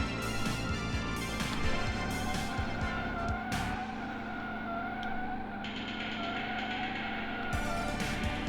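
Eighties-style racing cars in the Slipstream arcade racer overtake one another, with engines droning loudly and steadily and tires squealing as they pass, a sustained roar from start to finish.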